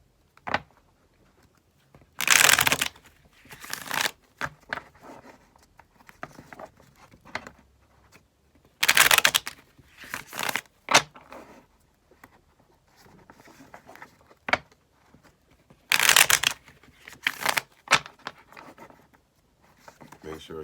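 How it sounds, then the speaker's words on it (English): Tarot cards being shuffled in three loud, dense riffle bursts separated by quieter stretches of soft card handling and taps, close to the listener. "let's get a good couple shuffles going."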